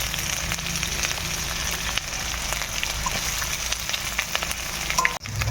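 Chopped garlic, ginger, onion and green chilli fry in a pan, a dense continuous sizzle with crackling and stirring scrapes, close and steady, ending in a sharp clatter near the end.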